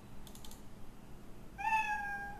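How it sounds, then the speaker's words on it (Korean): The built-in meow sound effect of the Scratch cat sprite plays once as a clear, drawn-out electronic meow, preceded by a few faint keyboard taps in a quiet room. "고양이가 x좌표 100보다 커지는 지점에서 야옹이라고 소리를 냈고"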